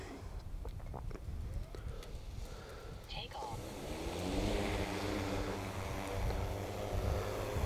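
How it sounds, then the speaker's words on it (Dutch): DJI Matrice 300 drone starting its motors outdoors, a rising whir that swells into a steady broad whine and hum after earlier clicks, with wind noise and someone talking over it. "En dan gaan we de motoren starten."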